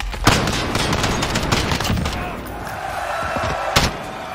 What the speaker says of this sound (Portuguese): O cara atirou no vento e me acertou.